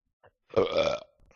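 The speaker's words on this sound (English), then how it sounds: "Excuse me, I burped again." A single close, throaty burp lasts about half a second in an otherwise quiet moment.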